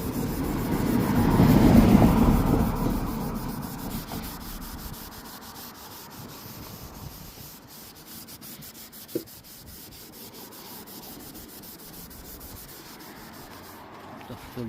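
A cloth rubs residue off the headlight of a 2018 Honda Civic, a loud scrubbing swish at first that fades into quieter, steady rubbing, with one small knock midway; no talking.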